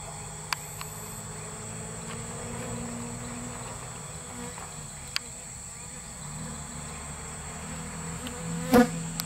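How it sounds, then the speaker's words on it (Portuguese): Steady insect buzzing, fitting bees swarming near the camera outdoors, with a constant high whine and a low drone throughout, a few brief clicks and a sharp bump near the end. "Cara, tem umas abelhas vindo aqui,"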